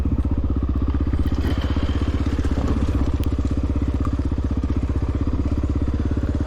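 A 1993 Honda XR600R dirt bike climbs a hill during an enduro race, its engine droning loud and close with a fast, steady pulsing beat and a slight crackle throughout.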